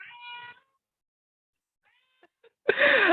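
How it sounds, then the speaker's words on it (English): A pet cat meows during an online community-of-practice video call, with a harmonic mew at the start, two brief faint chirps, then a louder drawn-out meow at the end, with silence in between. "my cat has joined the conversation"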